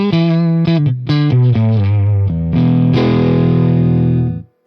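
Electric guitar played through an overdriven Fender Deluxe Reverb amp, strummed chords with a gritty, saturated tone, a quick series of stabs and then a long ringing chord that sustains loudly before cutting off, no talking.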